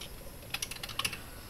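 Quick burst of typing on a computer keyboard, a handful of light, close key clicks in a brief rapid cluster over a quiet background hiss.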